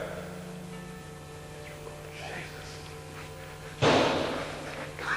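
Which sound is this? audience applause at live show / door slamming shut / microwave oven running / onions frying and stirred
door slamming shut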